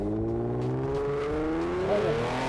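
Ford Explorer ST with a Whipple Stage 1 supercharger kit launching hard, a steady loud engine roar with a rising whine from inside the cabin, no talking.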